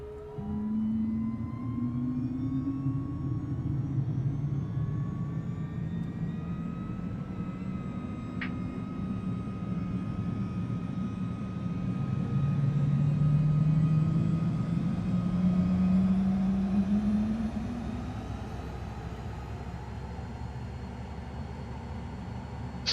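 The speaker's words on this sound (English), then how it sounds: "now we can just hit our starter button" A Cirrus Vision Jet engine spools up in a flight simulator, a low turbine whine rising slowly in pitch, swelling to a steady loud hum midway, then easing back to a settled idle drone.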